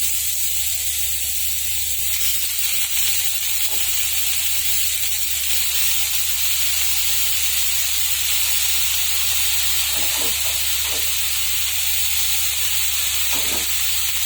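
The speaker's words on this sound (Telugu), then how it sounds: "ఇప్పుడు ఈ బీరకాయ తొక్కలు, బీరకాయ ముక్కలు, టమాటాలు వేసి ఫ్రై చేద్దామండి" Ridge gourd peels, ridge gourd pieces and tomatoes fry in a little oil in a pan, giving a steady hiss with a few faint scrapes and knocks now and then.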